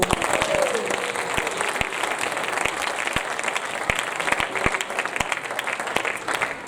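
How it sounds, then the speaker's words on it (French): A church congregation applauds in a dense, steady wash of many hands clapping at once, with a few sharper claps standing out and a faint voice briefly rising above it. "Est-ce qu'on peut applaudir le Seigneur?"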